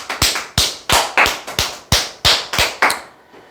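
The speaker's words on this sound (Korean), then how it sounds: "박수!" Eight or nine sharp, separate claps spaced about every half second, loud and close, then stopping; more like a few hands clapping than a crowd.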